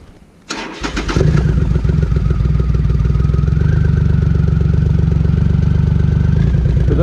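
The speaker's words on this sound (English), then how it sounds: "this is the 2010 Triumph Rocket 3 Roadster with a sidecar" A 2010 Triumph Rocket 3 Roadster with a sidecar cranks over and its big engine catches after a brief starter whir, then settles into a loud, steady, close idle with an even throbbing pulse.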